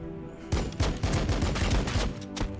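Rapid bursts of gunfire in the Warhammer 40K: Battlesector video game sound as a loud, fast volley of shots that runs for about a second and a half.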